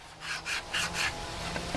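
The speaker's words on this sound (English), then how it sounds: "we take our sanding block" A sanding block rubs quickly back and forth over freshly cut wood ends, a faint, dry scratching in about four or five short strokes, close and alone.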